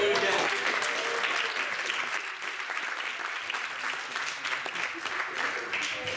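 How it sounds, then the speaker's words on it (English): Sustained applause from an audience at a youth entrepreneurship pitch event, a dense, even wash of many hands clapping that holds steady throughout, with speech faintly mixed in. "big round of applause for everyone again"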